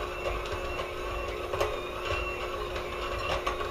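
An electric mixer runs on low speed, creaming cookie dough in a bowl: a steady, close mechanical whir with a faint rhythmic clatter and no voices.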